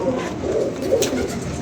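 A pigeon gives a short, close, low cooing call, a soft throaty burble lasting just over a second.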